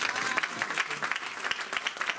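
A church congregation breaks into steady, dense applause during a pastor's sermon, a continuous patter of many hands at moderate distance.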